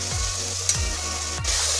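Raw chicken goes into browning onions in a hot pan for a chicken and flat bean curry. It sets off a close, steady, loud sizzle with no talking.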